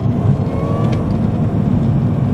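A Mini Cooper S R53 engine pushed hard on a race track, a loud, steady, droning engine roar with a faint whine, heard from close by without any talking.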